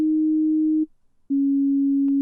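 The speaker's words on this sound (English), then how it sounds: "It's just a simple sine wave generator" A steady pure sine test tone from the MetaTune tuner plugin's built-in generator sounds alone at moderate volume, in two sustained stretches separated by a brief silent gap, with a faint click at the end.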